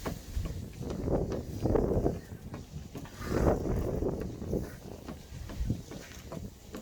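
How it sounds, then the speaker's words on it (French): Wind buffets the microphone with low, rumbling gusts that swell and fade throughout, loud and close, with no voice on top. "Peut-être que vous avez du mal à m'entendre avec le vent."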